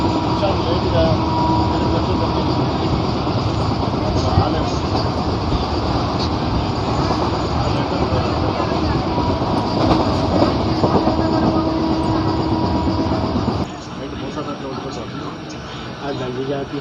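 A push-pull MEMU train runs on after pulling out of Yadagirigutta, its continuous loud rolling rumble and clatter heard from inside the carriage, easing slightly near the end, with a voice speaking over it.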